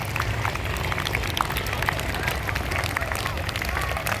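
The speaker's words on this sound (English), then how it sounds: "Please give them a huge round of applause." Crowd applauding taekwondo medalists at an outdoor school sports day, dense clapping blended with a murmuring hubbub, steady and moderately distant under a loudspeaker-filled open space.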